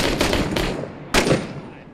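Rapid enemy gunfire in the war shooter Six Days in Fallujah, a dense rattling burst of shots that fades, then a second loud crack-and-burst, close and harsh with no speech over it.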